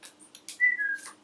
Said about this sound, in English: Oh, it's a whistle.